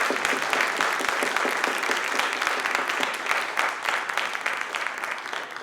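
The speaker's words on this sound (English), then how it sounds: "Please join me in a round of applause." Applause fills a hall at an anniversary event for film researchers: many hands clapping loudly and densely, staying strong for several seconds before thinning slightly at the end.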